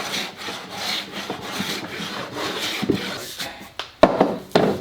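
A hand plane takes very fine shavings from a wooden Telecaster guitar blank in a series of rough scraping strokes, with a few sharper knocks near the end and no speech.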